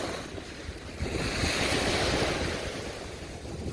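Ocean surf at Damon Point on the Washington coast, a broad hissing wash of waves that swells and then eases, mixed with gusty wind noise buffeting the microphone, no voices.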